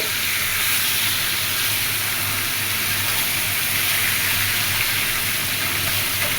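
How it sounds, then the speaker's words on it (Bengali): Four fish frying in a pan, a steady, dense sizzle and hiss that runs unbroken and fairly loud from start to finish, with no voices over it. "আমাদের মাছ ভাজাতে প্রায় হয়ে গেছে"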